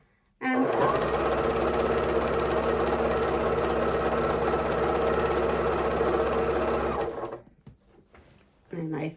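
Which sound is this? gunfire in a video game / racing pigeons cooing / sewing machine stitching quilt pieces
sewing machine stitching quilt pieces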